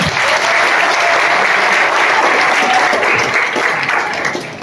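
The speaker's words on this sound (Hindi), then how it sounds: "जोरदार तालियां।" Loud, sustained applause from a large crowd of students at an academy talent hunt exam event in Malegaon, steady dense clapping that fades slightly at the end.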